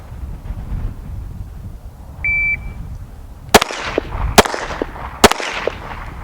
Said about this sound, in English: fire 3 rounds in 5 seconds